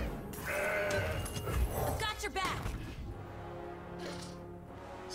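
In the card game Legends of Runeterra, a mountain goat bleats with a short, quavering cry amid layered game effect sounds and a brief crack, while a player talks over the mix.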